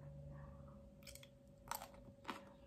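Spicy green mango salad with fermented fish is chewed up close, giving crunchy bites and chews. Three distinct crisp crunches stand out over faint background hum, and no one speaks.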